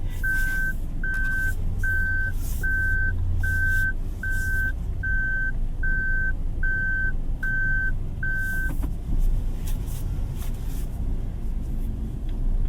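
A 2025 Toyota Ativ 1.3 E CVT's reverse warning beeps repeat about a dozen times at an even pace over a low engine idle, then stop while the engine keeps running.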